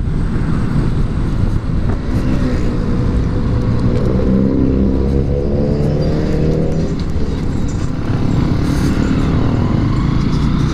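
A 2021 Motorstar TMX Supremo motorcycle engine roars loudly and close, its pitch climbing as it accelerates and then holding a steady drone.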